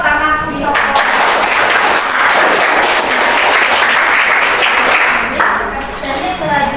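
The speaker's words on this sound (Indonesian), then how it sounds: "Ayo, tepuk tangan untuk" Students in a classroom burst into dense, sustained clapping that holds loud and steady for several seconds, then tapers off near the end.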